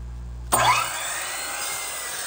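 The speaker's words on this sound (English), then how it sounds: "The way to use a compound miter," A compound miter saw spins up with a sudden loud whine and bites into a wooden board, then keeps up a steady high roar. The spinning blade is close and no one talks.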